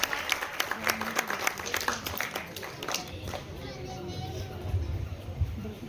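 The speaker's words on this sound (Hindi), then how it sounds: "जोरदार तालियों के साथ स्वागत करें हमारे डॉक्टर ईश्वर सर का।" Guests at a retirement party clap to welcome a doctor, a scattered burst of hand claps at first that thins into a murmuring room with children's voices.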